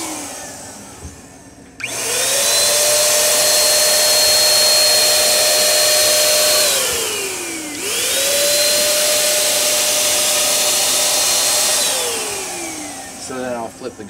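A spray gun sprays pretreatment onto a dark tee-shirt in two loud, steady bursts of roughly five seconds each, with a brief pause between them and a quieter tail at the end.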